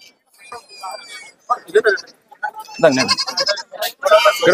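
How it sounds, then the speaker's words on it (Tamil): A Kanni goat kid bleats several times in short, wavering cries, mixed with people talking nearby at a livestock sale. "கன்னியாடு குட்டி தான்."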